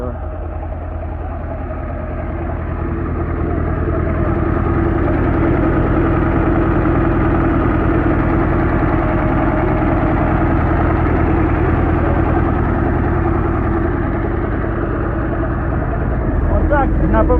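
A YuMZ-6 tractor engine running at a steady low rumbling idle, loud and close, holding an even throb for the whole stretch with a slight shift near the end.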